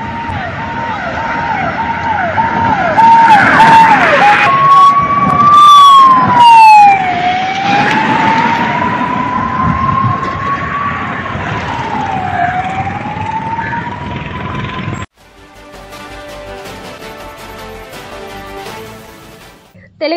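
Ambulance siren wailing loudly and sweeping up and down as the vehicle is escorted along a highway from Kalpaguri toward a Hyderabad hospital, with road noise beneath; the siren cuts off abruptly near the end.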